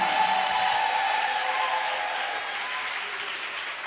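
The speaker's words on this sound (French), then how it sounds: "Continue to clap, continue to Continue clap." A church congregation applauds steadily during a French-language worship service, a dense, even wash of clapping that fades slightly toward the end, with no voice over it.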